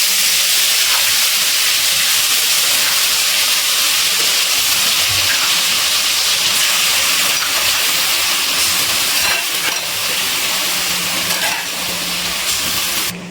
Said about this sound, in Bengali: এরপর ম্যারিনেট করা চিকেনটা আমি দিয়ে দেবো কড়াইয়ের মধ্যে।